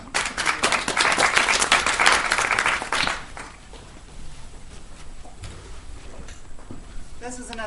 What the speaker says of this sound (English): we can have a round of applause for that